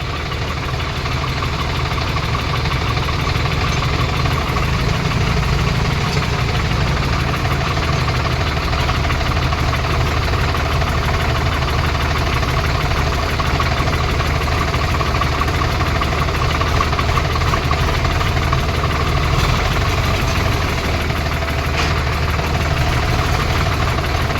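An Indo Farm tractor engine runs steadily while driving, a loud, close diesel drone with a knocking rumble and vibration that holds constant throughout with no talking.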